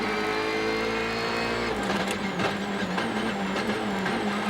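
A Citroën rally car braking hard on tarmac, its steady engine drone dropping in pitch as it slows, with faint tyre and brake noise from close on board.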